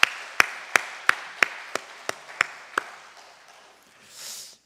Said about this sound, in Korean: 따뜻한 박수 보내겠습니다.